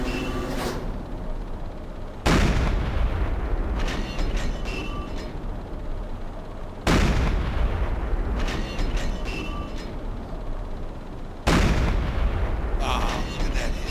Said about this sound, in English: What you do is put the crosshairs to the red and then tell him to fire.